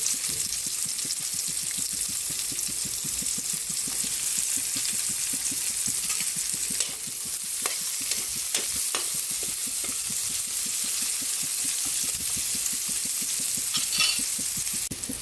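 Onion fries with already cooked garlic in a pan, giving a loud continuous sizzle with occasional stirring clicks throughout.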